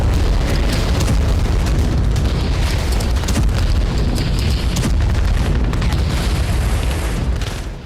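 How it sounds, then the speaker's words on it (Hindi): A powerful guided bomb blast destroys a factory building, producing a loud, sustained roar of explosion and rumbling debris that fills the whole stretch without pause. "अमेरिकी गाइडेड बम के सटीक निशाने से यूक्रेन ने पूरी इमारत को उड़ा दिया।"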